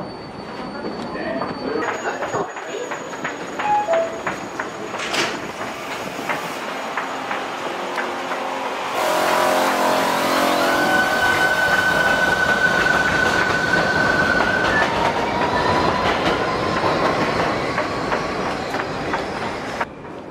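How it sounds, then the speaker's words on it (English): A New York subway 7 local train bound for Flushing–Main Street rumbles along with rattling wheels, squealing metal and a high whine, steady and loud throughout, with faint talk at times. "This is a Flushing Main Street bound 7 local train."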